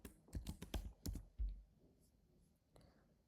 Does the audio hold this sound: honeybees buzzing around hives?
no